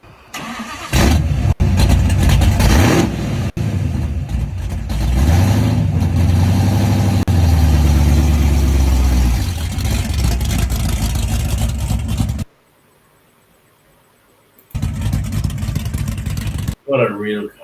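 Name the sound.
car engine revving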